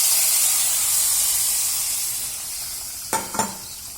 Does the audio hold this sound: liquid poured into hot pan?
yes